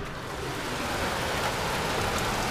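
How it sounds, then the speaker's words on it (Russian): Rain begins falling during a spring flood, a steady, dense hiss of drops striking surfaces all around without a break, loud and close. "Короче, дождь полил."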